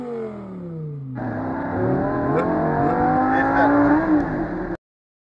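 A 2008 Lamborghini Gallardo LP-560-4 engine starts with a whirring crank, then catches and revs loudly and close, pitch rising and falling across several throttle blips before cutting off abruptly.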